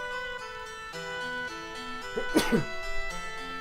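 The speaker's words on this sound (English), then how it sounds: "Oh, I gotta sneeze." A single sharp sneeze bursts out close by over steady background music.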